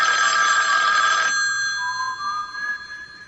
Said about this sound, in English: Your phone, Harry.